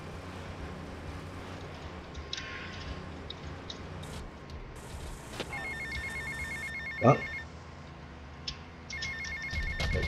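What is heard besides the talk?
phone ringing in video game GTA Vice City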